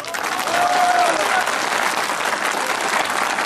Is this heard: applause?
yes